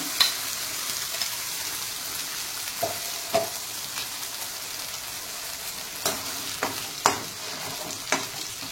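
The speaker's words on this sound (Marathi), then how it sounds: "याच्यामध्ये आपण आता चांगलं फ्राय करून घेऊया।" Matar paneer gravy fries in oil, a steady close sizzle broken by scattered clinks and scrapes of stirring, with no talk.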